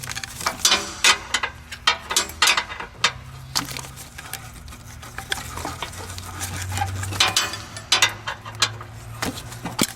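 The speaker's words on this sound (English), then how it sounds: "Use a long wrench to break it loose first." Long wrench ratcheting and clicking as it breaks loose a starter bolt on a 2006 Honda Odyssey, with repeated sharp metallic clicks and clanks up close over a low background hum; no voices.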